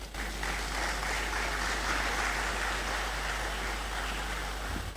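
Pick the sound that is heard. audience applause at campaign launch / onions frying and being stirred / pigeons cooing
audience applause at campaign launch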